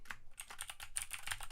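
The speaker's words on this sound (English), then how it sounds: "you're typing in real time" Rapid typing on a computer keyboard during a coding session, a steady run of close, crisp key clicks with uneven rhythm and no voices.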